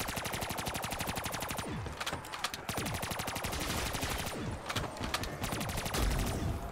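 Death Machine minigun in Black Ops 3 custom Zombies firing continuously, a dense, rapid, unbroken rattle of shots with only slight variation throughout.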